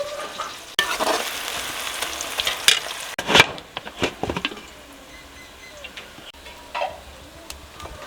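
Onions frying in oil in a pan for village-style murgh karahi, sizzling with sharp spatula scrapes and knocks against the pan, close and uneven, quieter sizzle between strokes.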